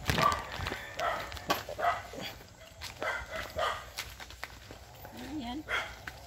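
A dog barks and yips in short bursts at a house gate during an afternoon visit, close by and mixed with people talking and footsteps.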